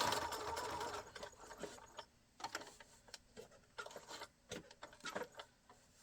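Sewing machine stitching adhesive-backed binding onto the square corner of an art quilt, a steady run of stitching at first, then short bursts and clicks as it takes a few stitches to the corner and back.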